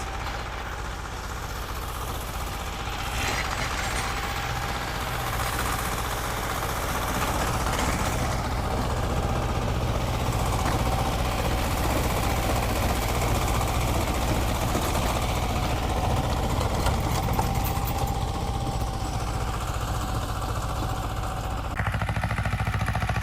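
A small T-25 tractor engine drones steadily at a low, heavy pitch, labouring without pause throughout while pulling a Kverneland plough through heavy soil.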